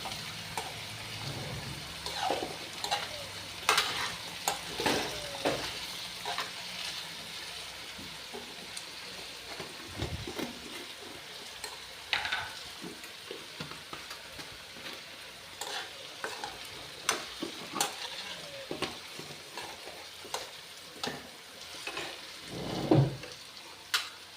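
Taro root (arbi) browning in a pan, a low sizzle under repeated spatula scrapes and stirring knocks that come at irregular intervals throughout.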